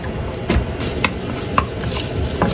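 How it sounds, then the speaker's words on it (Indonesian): Garlic goes into hot oil in a home kitchen pan and gives off a steady, close sizzle, with a few sharp utensil clicks scattered through it. "Bawang putihnya setelah kita masukkan, kita ongseng sampai agak berubah warna ya."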